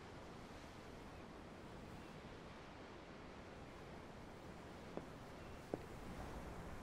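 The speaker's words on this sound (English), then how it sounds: "the waves. They help me think." Steady, soft ocean surf washes continuously in Tales of Arise, a quiet, even hiss of waves with two faint brief taps near the end and no talk.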